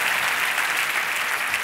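Steady, dense applause from a keynote audience at a Dutch Bros event in Portland, Oregon, a continuous even wash of many hands clapping at once, close and full for the whole stretch, with no voices rising above it.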